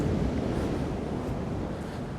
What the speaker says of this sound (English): Again, the waves.